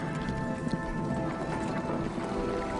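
Horses galloping across open country, as in a cavalry pursuit during the 1846–1848 war between the United States and Mexico, heard as a dense, continuous patter of hoofbeats at steady loudness with no clear pauses.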